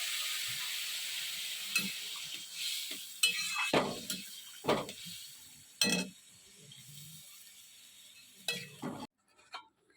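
Vegetables sizzle and hiss in a hot pot after water is poured in from a bottle, with a steady steamy crackle broken by sharper spurts and occasional clinks, then dropping to near silence at the end.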